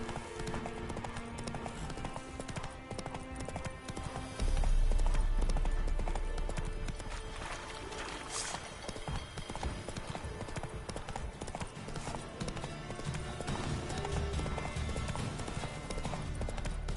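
Roach, the player's horse in The Witcher on PS5, gallops with a steady, continuous clip-clop of hooves over layered game music and ambience, with a heavier thump near the start.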